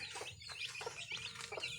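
Chickens clucking in short repeated bursts in a backyard coop behind a house, with a steady murmur of farmyard background underneath; fairly close and moderately loud.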